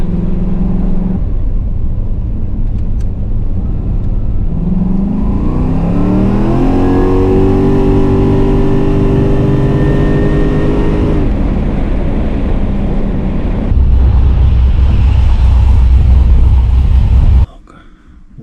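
Boosted Holden VL Calais pulls hard up to its rev limiter, a loud engine note climbing steadily in pitch over several seconds, then dropping to a deep idle rumble before cutting off abruptly.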